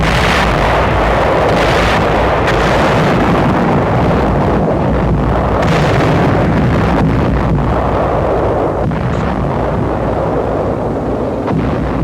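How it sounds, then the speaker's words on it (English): Heavy artillery shelling in 1945 wartime footage from Luzon, near the Clark Field area. Dense booming and rumbling continue throughout with a windy, noisy texture, loud and without voices. "troops of the 14th Corps bring up artillery to attack the Clark Field area, which is subjected to heavy shelling"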